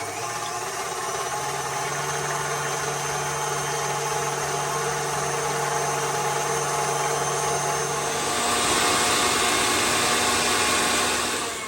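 An electric mixer whips heavy whipping cream to stiff peaks, a steady motor whir with a mid-pitched hum that carries on unbroken and grows louder and brighter near the end.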